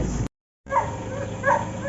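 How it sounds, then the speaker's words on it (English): Security dogs at a chicken farm bark a few times, two clear barks at moderate distance over a steady background of engine or vehicle rumble. "Many security dogs."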